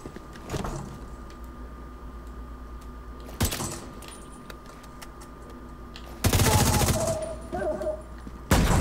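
Fully automatic rifle fire in The Division 2, heard as a few short loud broadband bursts amid quieter game ambience, the longest burst lasting about two seconds near the end.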